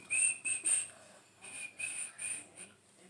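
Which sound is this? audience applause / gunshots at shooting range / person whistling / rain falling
person whistling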